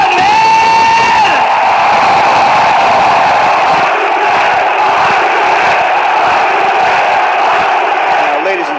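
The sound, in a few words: wrestling crowd cheering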